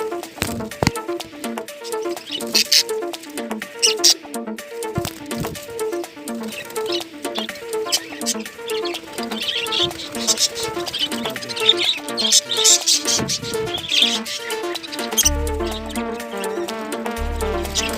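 Chicks in a small cage chirp constantly in rapid, high, overlapping peeps, close and fairly loud, with faint rustling and a few low thumps toward the end.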